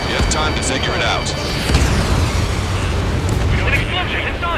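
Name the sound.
explosion in video game Ace Combat 7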